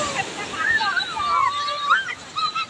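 Sea waves at Puri beach wash and slosh in a continuous watery churn while people talk and call out over it.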